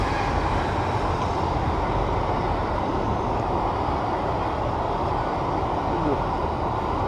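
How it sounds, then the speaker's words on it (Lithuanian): A train rumbles past near a riverside catfish-fishing spot in autumn, a loud, steady, broadband roar that holds at even strength for the whole stretch with no pauses. "palauksiu traukinio"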